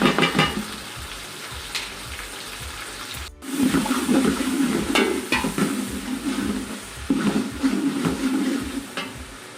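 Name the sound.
spices, ginger, chilies and vinegar frying in a pan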